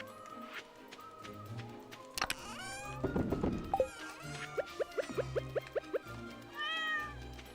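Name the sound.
cat meowing in a farming video game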